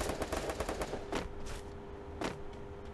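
Rapid automatic gunfire from the battle-royale video game Free Fire rattles in dense bursts, loud and close, with a couple of heavier single shots standing out and no speech.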